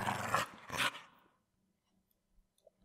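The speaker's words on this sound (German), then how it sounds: "Der Hund ist viel zu flink." A dog in the German video game Eine Weihnachtsgeschichte gives two short, close growling barks in quick succession, followed by near silence with faint clicks.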